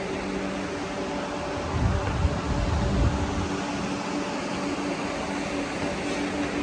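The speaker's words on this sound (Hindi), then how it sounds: "तो आप देख सकते हैं ये है हमारी वंदे भारत ट्रेन, बहुत खूबसूरत ट्रेन है ये।" A Vande Bharat Express train running along the rail line near Amb Andaura station in India, a steady loud rushing rumble of wheels and air with a heavier low surge partway through.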